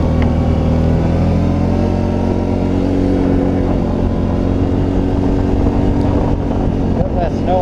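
Can-Am Outlander XT 650 ATV pushing through deep snow in a 2022 storm, its engine droning loud and steady close by with a constant low rumble and hiss, no pauses, a voice faintly over it near the end.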